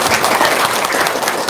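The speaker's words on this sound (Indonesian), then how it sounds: "Tepuk tangan dong" Audience applause, a dense, steady burst of clapping filling the whole short moment without pause.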